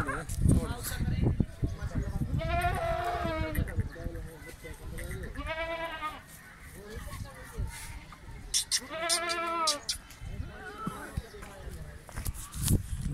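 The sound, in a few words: goat bleating on a goat farm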